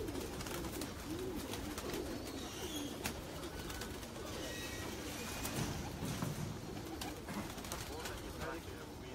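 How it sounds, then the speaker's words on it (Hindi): Netted pigeons held in a loft give soft, low coos mixed with wing flutters and shuffling, heard close over steady background noise, with someone talking throughout. "ये कबूतर हैं जी मज वाले हम कहते हैं इनको"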